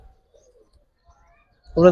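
Giribaz pigeons let out a short burst of cooing near the end, close and fairly loud, after near silence with faint scattered noises.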